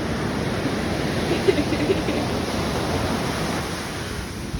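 Ocean surf washes up on a California beach in a steady, broad rush of noise with small swells, a close wave breaking around the listener with some wind buffeting the microphone.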